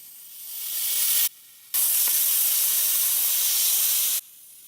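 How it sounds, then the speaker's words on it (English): A Wagner steamer used for appliance repair gives off a loud, close, steady hiss of steam in two long bursts separated by a brief pause. "Thought I'd let you listen for a little bit how loud it is. It's a little louder than your standard steamer."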